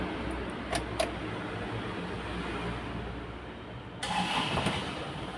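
Steady mechanical rumble, then the diesel engine of a 2015 Isuzu Panther LS cranks and catches about four seconds in, turning louder and rougher as it starts up.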